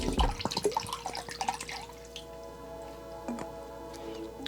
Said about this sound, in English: you're just going to pour it into the bowl